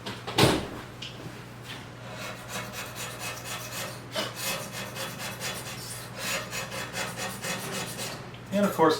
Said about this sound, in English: I'm gonna scrape that glue off.